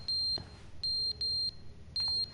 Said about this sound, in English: Oh, it's the fire alarm.